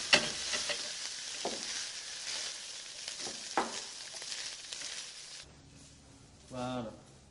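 Dough for Turkish-style gözleme cooking in a gözleme pan, with a steady sizzle and frying crackle and a few scraping stirs, and a voice speaking briefly near the end.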